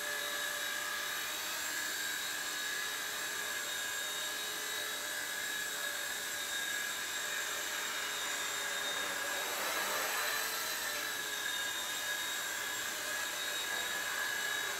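A T-REX 100X remote-controlled helicopter hovers nearby, its small rotor and motor giving a steady high-pitched whine and buzz that holds constant for the whole stretch, swelling briefly midway.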